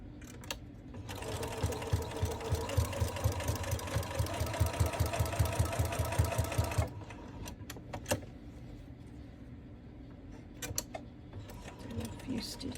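A sewing machine stitches fabric in a fast, even mechanical chatter for several seconds, then stops. A few scattered clicks and handling sounds follow in a quiet room.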